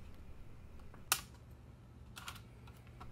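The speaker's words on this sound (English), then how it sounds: "Let me go ahead and pull this keyboard off." A sharp plastic click and snap as the keyboard shell of a Raspberry Pi 400 is pulled away, one crisp pop followed a second later by a softer rattle, close and quiet in a still room.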